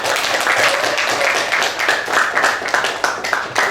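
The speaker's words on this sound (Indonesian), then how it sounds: "Tepuk tangan dong" Students applauding in a classroom, a loud burst of group clapping up close that continues steadily for several seconds.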